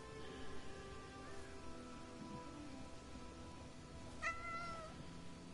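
A cat in the video game Crimson Desert gives one clear, rising meow near the end, with a fainter earlier mew, over a quiet hiss of rain-like ambience.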